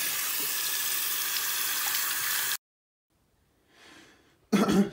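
A scratched PS4 disc rinsed under a running tap, a steady broadband rush of water that stops abruptly, followed by faint trickling and a short burst of splashing at the end.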